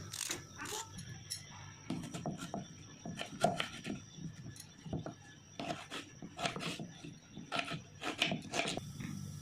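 Peel is scraped off a radish by hand in a rapid series of short, dry rasping strokes with irregular rhythm, fairly faint and close, with no voices over it.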